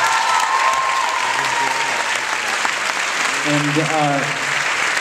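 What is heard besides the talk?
audience applause at a film Q&A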